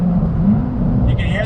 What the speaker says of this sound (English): Rev match downshifting, very smooth.